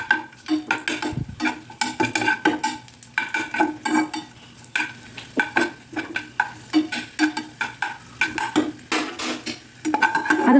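Raisins fry in a pan while a spoon stirs them in repeated scraping strokes, with a steady sizzle and frequent clinks of metal against the pan.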